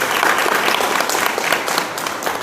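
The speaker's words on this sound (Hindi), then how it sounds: "तो मैं चाहता हूँ एक बार जोरदार ताली के साथ" Loud, dense applause rises from a crowd at a public gathering when asked for a hearty round of clapping. The sound is continuous with slight surges and a few sharper individual claps, and no one speaks over it.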